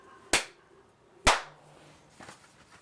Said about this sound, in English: Clap 2 times